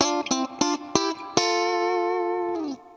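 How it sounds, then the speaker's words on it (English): Guitar through a Fender Super-Sonic amp with tube-driven long-pan spring reverb: a run of quick picked notes, then a loud sustained chord that rings out with a splashy reverb tail before fading. "We're also hearing Fender's famous spring reverb. That's a full long spring reverb pan and tube driven, as with the old blackface amps."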